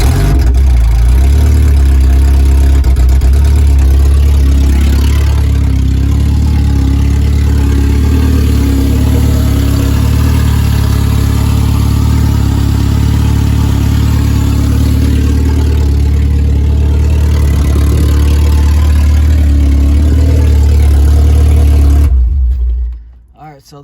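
A Honda del Sol with a swapped K24 engine idles steadily after startup, a loud, close, even rumble that holds for over twenty seconds before cutting off abruptly.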